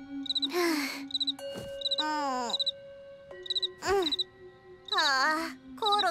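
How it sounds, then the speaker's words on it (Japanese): In a Cry Babies cartoon, a cricket chirps in short, evenly repeated high trills, recurring throughout alongside a high-pitched animated voice speaking and whining. "コオロギの鳴き声がうるさすぎて眠れない。"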